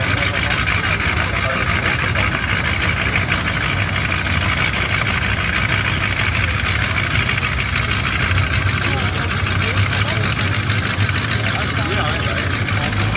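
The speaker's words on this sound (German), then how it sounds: "Der bläst gerade seinen Motor frei." A museum tank running its engine in the Normandy D-Day commemoration, a loud, steady, rumbling idle with a continuous low drone, while people talk nearby throughout.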